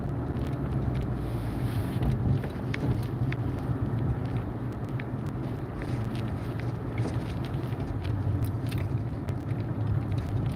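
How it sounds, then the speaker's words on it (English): Steady road traffic on a two-way street through a neighborhood with kids around, a low continuous rumble with some wind noise, cars going by at a moderate distance without distinct individual pass-bys. "See, now cars can pass you."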